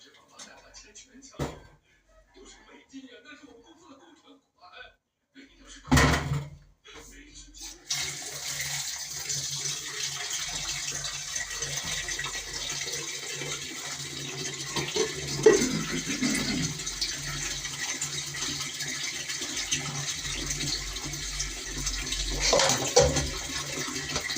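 Tap water runs steadily into a sink while boiled corned pork is rinsed under it, with a few clunks and handling noises at the start.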